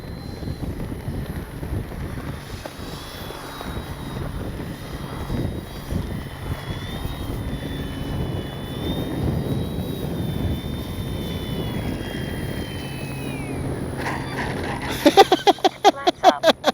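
An E-flite Commander RC plane on its maiden flight gives a steady electric motor whine that slides slowly in pitch, riding over rushing wind noise, with a burst of sharp rapid clicks near the end.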